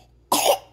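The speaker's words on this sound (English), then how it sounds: "Whoa! Big coughing." One loud, abrupt cough from a person nearby, a sharp burst lasting about a quarter second after a quiet moment.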